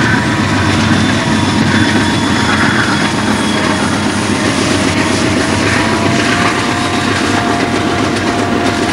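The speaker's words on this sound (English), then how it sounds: "Train number 195 has been given clearance to enter the main and follow number 33." Burlington Northern freight train number 195, carrying a large block of lumber products, departs onto the main line with a steady, loud, broadband diesel engine roar and rumble held throughout, no voices.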